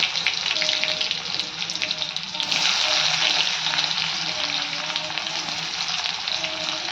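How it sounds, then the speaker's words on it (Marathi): Chopped onion frying in oil in a kadai gives a loud, steady sizzle with light crackle that holds throughout and swells briefly midway, with no talking. "कांदा छान भाजून घेऊयात"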